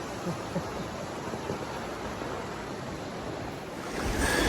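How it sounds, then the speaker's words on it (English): Fast-flowing river water rushes around a tiny boat on a mountain trip, a constant loud broadband roar and splash that swells slightly stronger at the end. "That water's ripping."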